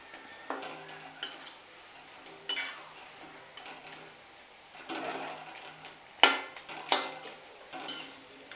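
Okra pakoda pieces fry in oil while a metal utensil keeps separating them, heard as intermittent clinks, scrapes and taps against the pan over a quiet background, with no talk.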